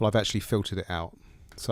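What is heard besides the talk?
No everyday noise stands out behind the speech.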